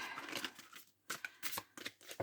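Tarot cards are shuffled and drawn close by, with soft riffling bursts and light flicks and slaps of card stock in short irregular spurts, quiet and without talking.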